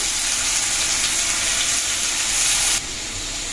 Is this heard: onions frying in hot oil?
yes